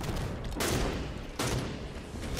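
Rapid bursts of gunfire in the Halo 5 video game, two dense loud volleys a second or so apart, filling the short clip with continuous crackling shots.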